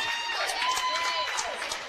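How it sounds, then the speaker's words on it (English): Applause and cheering from the crowd at a high school basketball game between Southeast of Saline and Ellsworth, a steady close wash of clapping lasting about two seconds, with some voices mixed in. "They're playing hard, as you can hear the applause, and well-deserved."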